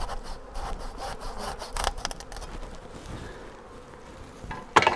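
Rough, rhythmic rasping of a saw cutting off a tree branch, steady strokes close by, with a faint buzz of a bee swarm in the background.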